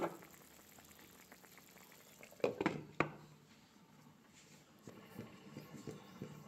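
Potato curry simmers under a lid in a pot, a soft steady bubbling with a few louder clatters and knocks near the middle and quieter irregular bubbling toward the end.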